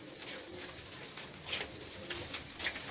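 Salara Teddy pigeons kept by a fancier, with soft cooing and faint wing or bird sounds over a steady outdoor hiss, quiet and close, no talk.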